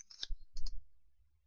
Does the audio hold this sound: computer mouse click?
yes